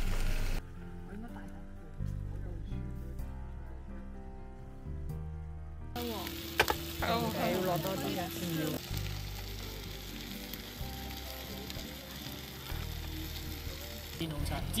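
Fish skin fries in a pan at a fall campsite in Golden Ears Provincial Park, giving a steady, close sizzle and crackle that follows a short stretch of music.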